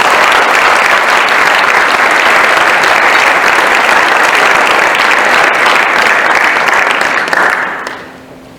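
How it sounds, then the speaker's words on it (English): A hall of honor induction ceremony audience gives loud, sustained applause, dense clapping that runs steadily for several seconds and then quickly dies away. "Please give a round of applause for Mr."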